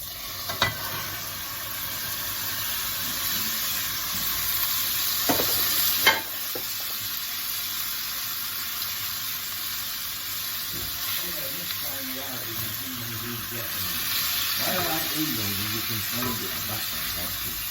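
Tofu frying in a pan, a continuous near sizzle with intermittent spatula stirring and a couple of sharper clatters, while voices talk faintly in the background.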